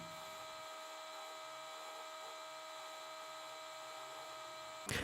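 A buffing wheel on a lathe polishes a wood and resin pendant, giving a faint, steady motorized hum and whine that holds evenly throughout, ending with a brief rustle.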